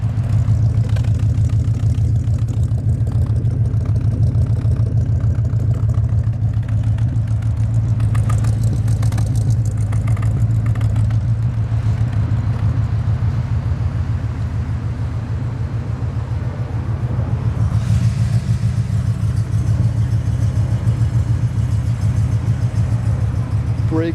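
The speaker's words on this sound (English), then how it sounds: "Hear the exhaust." A 1967 Cadillac Eldorado engine runs steadily, its exhaust giving a deep, continuous rumbling burble close by, holding even throughout with a slight dip and swell partway, and no talking.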